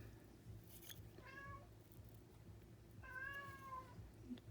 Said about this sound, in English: Got my cat howling.